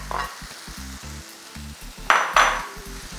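Sautéed meat being stirred into a sizzling bolognese sauce in a pan: a steady frying sizzle with rhythmic scraping stirs, and two louder hissing bursts near the end, no talking.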